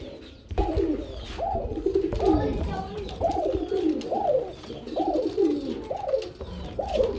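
Running pigeons coo close by in a steady rhythm, each rolling call repeating about every half second and continuing throughout.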